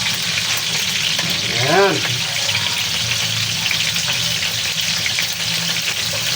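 Fish frying in a pan sends out a steady, close sizzle and crackle for the whole stretch, with a short voice about midway.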